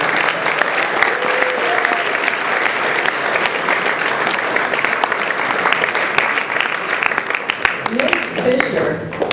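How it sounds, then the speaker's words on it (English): A crowd at a state speech and debate competition day in Orange County, Southern California, applauds two competitors with loud, continuous clapping, and a few voices rise beneath it near the end. "give them a round of applause for doing that"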